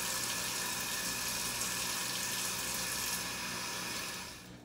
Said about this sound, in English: Now I'm gonna wash my hands really, really good